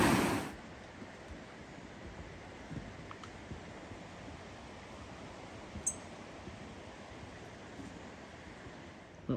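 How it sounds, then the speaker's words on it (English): Rough water washing and churning in a broad steady rush after heavy overnight rain, with a brief faint squeak partway through and no talking. "That water is rough,"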